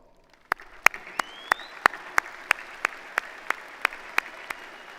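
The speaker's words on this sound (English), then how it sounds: "let's give them one more round of applause" A commencement audience at a university business college ceremony claps in slow, evenly spaced beats, a dozen or so distinct loud claps in steady rhythm over a quiet hall.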